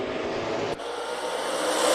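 Dirt-track race cars roaring off at the start at Rapid Speedway, a loud continuous engine drone with a brief dip, building again toward the end.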